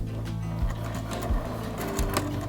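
Sewing machine stitching a seam on a fabric pouch with a 3.5 mm stitch length, a steady close mechanical whirring with rhythmic needle thumps running throughout.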